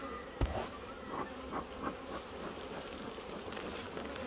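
Bees from a wild hive in the Jamaican hills buzz steadily at a moderate distance, a continuous hum with a sharp knock near the start and no talk.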